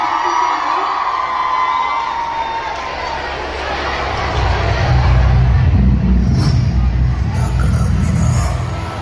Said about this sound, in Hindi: को लेकर जोरदार तालियां